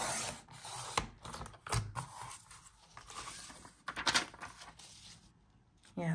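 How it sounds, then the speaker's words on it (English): Paper planner pages being trimmed to remove the punched holes, with quiet scraping and rustling, short cutting strokes and a few sharp taps, close and soft, and brief talk mixed in. "So I just need to trim off the holes."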